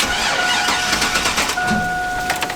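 A Chevrolet Avalanche truck that had been long dead cranks and catches, its rough-running engine with a faint whine and a few clunks, close and fairly loud for a couple of seconds.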